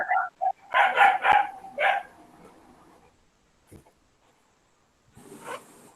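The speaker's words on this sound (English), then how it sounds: "Where you got so many dogs barking?" Dogs barking in short sharp bursts, a cluster of barks up close followed by a quiet stretch and fainter distant yips, heard alone without talking.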